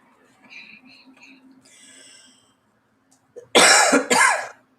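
A person coughs twice, loud and close, in sharp bursts following soft indistinct speech and a quiet hiss in a home where dust and yarn fiber have been stirred up.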